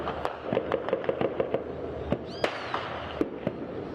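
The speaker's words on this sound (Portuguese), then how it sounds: "já são mais de 3 horas de intensa troca de tiros" Gunfire is exchanged between police and traffickers in Serrinha, Madureira, in Rio's north zone, with a rapid burst of sharp cracks followed by scattered single shots that echo at moderate distance.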